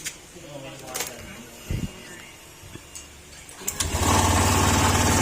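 A Honda Click scooter's engine starts near the end and runs loudly up close, after a stretch of clicks and handling noises while someone talks.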